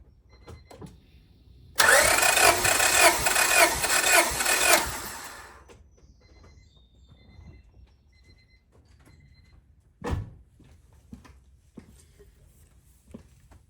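Honda Civic engine cranking on the starter for a compression test on a non-running car, a loud rhythmic churning burst lasting about three seconds that cuts off. It is followed by quiet clicks and one short knock later.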